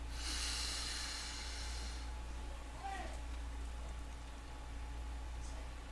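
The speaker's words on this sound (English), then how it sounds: "I'm going to take 3 long, slow, deep breaths" A slow, deep inhale drawn through the nose, a soft airy hiss lasting about two seconds, close and quiet over a steady low hum.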